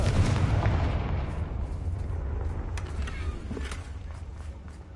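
A Confringo fire spell blasts in the Hogwarts Legacy video game, a loud booming burst with a heavy low rumble that slowly decays under faint scattered crackles and impacts.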